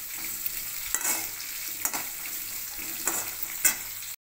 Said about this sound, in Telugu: వేసి బాగా ఫ్రై చేసుకోండి